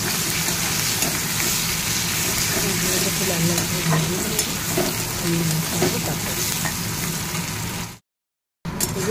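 Spice masala of chilli powder, turmeric, garlic paste and tomato sizzles hard in a pan for a fish curry, with constant stirring and scraping under faint background voices, then cuts off abruptly into a brief silence near the end.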